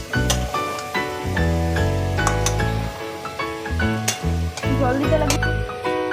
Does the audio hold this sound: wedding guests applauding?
no